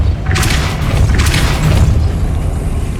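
A Depulso spell fires in Hogwarts Legacy with a loud booming blast, followed by a rumbling thud that carries on to the end.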